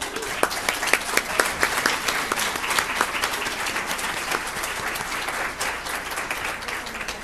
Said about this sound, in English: let's have a round of applause for all of our exhibitors